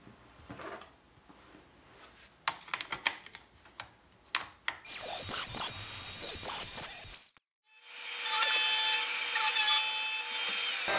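Hand tools cutting mortises in wood for dining room chair corner braces: scattered knocks and scraping taps, then two long stretches of steady, close, rasping sawing or paring with no talk.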